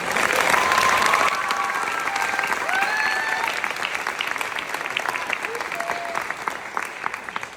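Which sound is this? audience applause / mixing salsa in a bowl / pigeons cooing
audience applause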